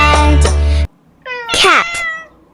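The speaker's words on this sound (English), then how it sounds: "C for cat." A cat meows loudly and close up, giving one long drawn-out meow followed by a shorter second cry after a brief pause.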